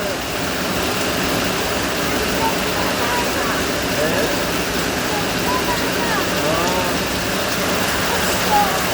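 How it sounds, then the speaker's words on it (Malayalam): Dense, steady rain pours down with a constant hiss that never lets up, and faint voices sit low underneath. "നല്ല സൂപ്പർ മഴ"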